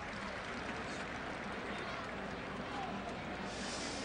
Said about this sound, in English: And a round of applause from